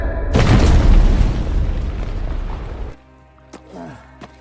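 A bomb blast in a war film about Korean villagers, a sudden massive boom that roars and rumbles for over two seconds before cutting off, followed by a few faint thuds and quieter rustling.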